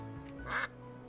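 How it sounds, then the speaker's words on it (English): A single short, nasal quack from a duck in the video game Duck Detective, set against a quiet background hum of game music. "I can quack?"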